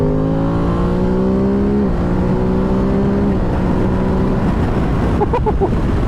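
A 2023 Ducati DesertX motorcycle engine roars loudly and climbs in pitch through several gear shifts, accelerating hard with steady wind noise.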